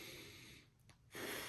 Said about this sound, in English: take a deep breath in, deep breath out.